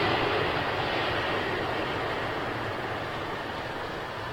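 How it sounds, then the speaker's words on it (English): A LATAM Boeing 777 airliner at London Heathrow gives a steady, loud broadband engine roar that fades slightly over a few seconds, with no talking. "That LATAM triple is making his way up towards here."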